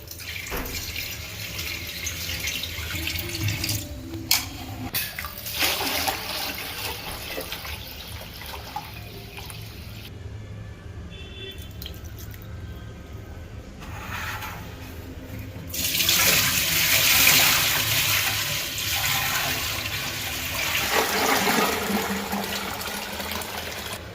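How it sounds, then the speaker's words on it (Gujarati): Flattened rice from Ujjain being rinsed in several changes of water for batata poha, with running tap water, splashing and sloshing in a vessel coming in bursts, a quieter pause midway and a louder pour near the end. "ત્રણ પાણીએ ધોવા ફરજિયાત છે પૌવાને"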